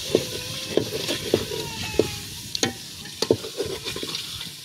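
Goat meat and liver sizzle while being fried and stirred in a pot over a village cooking fire, a steady frying hiss punctuated by regular scraping strokes of a spoon against the metal, close and clear.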